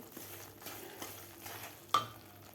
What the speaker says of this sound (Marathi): चार ते पाच मिनिट मी हे तुपामध्ये रवा भाजून घेतलेला आहे